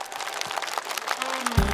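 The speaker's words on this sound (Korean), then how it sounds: "박수로 맞이하세요" Audience at a traditional market singing contest in Sunchang applauding to welcome a singer, a short burst of fairly close clapping with scattered claps standing out.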